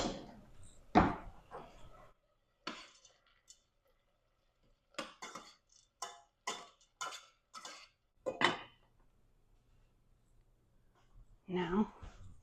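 A spoon scrapes and clinks in a pot of boiling corn that is still frozen on top, giving a series of short, sharp metallic knocks in quick bursts, quiet between strokes, with some talking.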